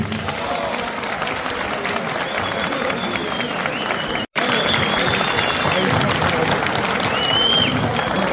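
Loud, sustained applause from a large crowd at a congress general assembly, steady clapping that fills the space, broken by a brief silent gap midway before resuming just as strongly.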